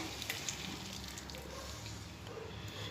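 Chopped vegetables with finely cut banana flower and garlic sauté in a pan, a steady, close sizzle and hiss that continues without a break.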